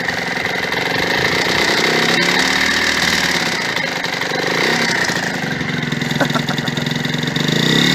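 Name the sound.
Yamaha DT motorcycle engine idling on choke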